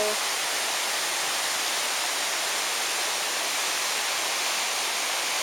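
The Buntot Palos waterfall, also called Hidden Falls, in Pangil, Laguna, gives a steady, even rushing roar of falling water, unbroken throughout and with no voices.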